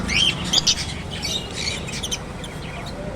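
Caged budgies and lovebirds in a bird shop, sharp overlapping squawks and chirps in bursts, close and fairly loud over a low background murmur.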